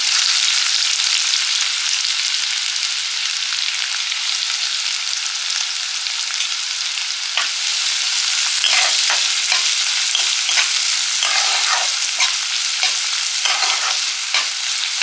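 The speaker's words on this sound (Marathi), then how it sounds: "कांदा आपण चांगला परतून घेणार आहोत।" Onion and chopped garlic sauté in hot oil with cumin seeds, giving a loud, continuous sizzle close up. Scraping stirs cut in repeatedly through the second half, and no one speaks.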